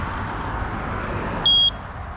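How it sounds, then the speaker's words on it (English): A single clear electronic beep from a Ghost Controls dual gate opener control board, short and steady, sounds once over a background of soft outdoor noise. "That beep means that it's confirmed."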